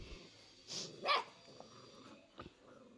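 Dogs at a family wedding gathering give two short barks close by, followed by a fainter yip, over quiet background noise.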